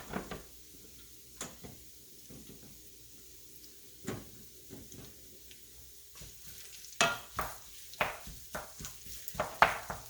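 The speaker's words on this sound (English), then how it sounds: "the jalapeno pepper and the onion are going to saute in the fat that's been released from your hamburger meat" Hamburger meat, jalapeno pepper and onion sautéing in rendered fat in a pan, with repeated spatula scrapes and knocks over a low sizzle that grow busier and louder toward the end.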